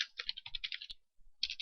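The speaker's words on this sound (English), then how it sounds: "oh, I hit the caps lock keys" Rapid clacking of a computer keyboard being typed on close up, a steady run of keystrokes, a brief pause, then another burst of typing.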